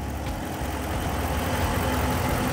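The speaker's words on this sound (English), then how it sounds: "Take a look inside the engine there while it's running." A 2022 Ram 1500 Rebel's V8 engine idles close by, a deep, steady rumble, low and continuous with a faint mechanical tick, no talking.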